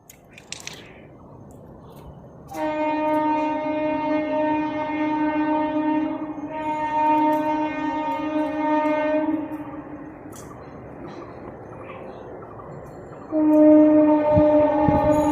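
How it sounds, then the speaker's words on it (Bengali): A train passes nearby, sounding a long, loud horn in sustained blasts that hold for several seconds, pause, then sound again, over a low rumble, with no talk. "ট্রেন যাচ্ছে"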